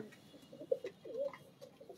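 A breeder's pigeon coos quietly, giving a few soft, low throaty calls spread over two seconds against a faint background hum.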